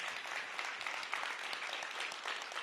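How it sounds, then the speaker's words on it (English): An elementary school audience at a third grade showcase gives a brief, fairly quiet round of steady applause for the young performers, with no voices over it. "Give them a big round of applause."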